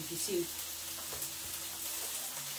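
Onion and carrots fry in a pan for Chinese stir-fried noodles with shrimp, chicken and vegetables, giving a steady close sizzle with a few faint stirring scrapes and no talk.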